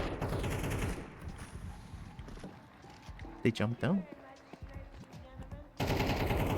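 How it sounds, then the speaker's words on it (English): Bursts of gunfire in a multiplayer video game shooter crack out in quick clusters midway through, with footsteps and faint game sounds around them and a person speaking briefly over the action. "It's a lot of gunshots. There's a lot of gunshots."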